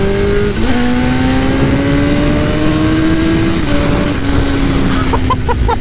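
A 2001 Suzuki GSX-R 1000 sport motorcycle accelerating hard on the road, its engine note climbing steadily through the revs with a brief gear change early on, loud and close throughout.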